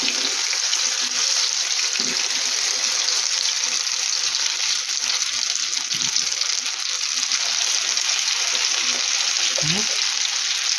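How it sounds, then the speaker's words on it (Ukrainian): Steady, loud sizzling of potato pancakes frying in a pan, a continuous hiss with a few faint clicks and knocks. "Ну, от хай смажиться з другої сторони."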